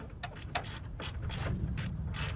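A hand ratchet clicks in quick repeated strokes while tightening a tie rod nut on a Toyota Sequoia, with close, crisp pawl clicks coming in short bursts.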